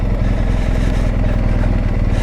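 BMW R1250 GS motorcycle engine ticking over at a slow trundle on a steep mountain pass, a loud, steady low pulsing throb with no revving.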